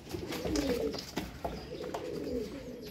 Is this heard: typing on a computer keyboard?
no